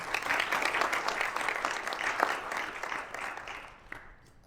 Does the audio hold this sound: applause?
yes